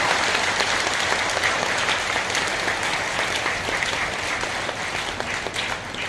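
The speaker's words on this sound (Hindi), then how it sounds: "मैं पुनः हमारे महाराज श्री रमाकांत जी व्यास का एक बार जोरदार तालियों के साथ मैं आपका स्वागत चाहता हूं।" An audience at a Shrimad Bhagwat Katha religious gathering welcomes a speaker with loud, sustained applause, a dense, even wash of many hands clapping throughout with no speech.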